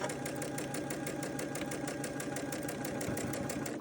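A sewing machine runs steadily while stitching across the seams of a large four-patch quilt block, giving a fast, even mechanical chatter that continues without a break, close and moderately loud.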